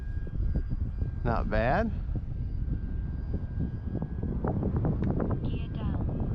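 E-Flite T-28 1.2m RC model plane droning steadily overhead at about half throttle on its maiden flight, the motor loud and continuous through wind buffeting, with a short spoken remark partway through.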